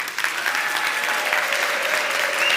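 Steady applause from a conference audience at a live marketing event, dense clapping filling the whole stretch with a few whistles or shouts mixed in.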